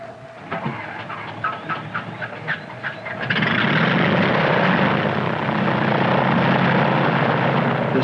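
A light plane passes low over the open Turan Desert, its engine drone swelling suddenly from a faint hum to a loud, steady roar that holds for several seconds, with some clicking and rattling heard beforehand.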